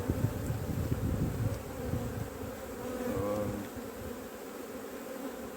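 Honeybees swarm around an open hive on the coast while a beekeeper prepares new swarms, their steady close buzzing drone filling the clip alone, with a few louder passes near the start.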